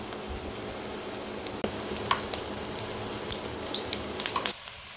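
Onion, green chili, garlic, ginger and whole cumin frying in hot oil, a steady close crackling sizzle with brief stirring scrapes, running alone until it drops away near the end.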